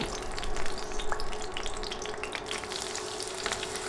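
Two dried red chillies and a bay leaf frying in hot oil: a dense, bright, steady sizzle with crackling pops, close and continuous with no voices.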